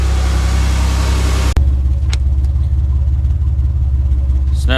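A 2002 Pontiac Grand Am GT with an aftermarket muffler idles close by, a steady, loud low rumble with a sharp break partway through and a faint click near the end.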